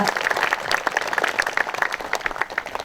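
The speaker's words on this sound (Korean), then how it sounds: "박수 부탁드립니다." An audience at the 45th May 18 memorial ceremony in 2025 breaks into steady applause: many hands clapping close and fast in a thick, even wash for about three seconds, with no voices on top.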